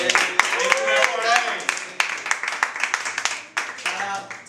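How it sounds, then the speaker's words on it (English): Audience applause made of scattered, uneven claps from a modest crowd, nearby and fairly faint, with voices talking and cheering over the clapping. "Another big round of applause."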